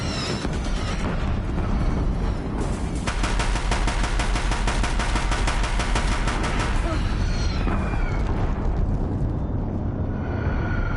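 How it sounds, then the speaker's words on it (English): Deathbringer war machines in the Horizon video game fire guns in a loud, sustained mechanical rattle of rapid bursts lasting several seconds, thick with roaring battle noise. "If the Deathbringers keep firing,"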